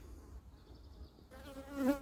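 Bees around a vegetable garden and orchard, a faint, wavering buzz that rises as one passes close to the microphone, over quiet outdoor background with no voices.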